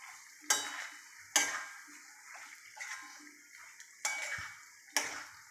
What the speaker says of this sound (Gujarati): પછી એને એક સરખું હલાવી દઈશું, જેથી કરીને બધા મસાલા બટાકાની સાથે